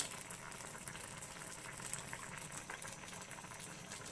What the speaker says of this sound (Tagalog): Yan, pinapakulo ko na.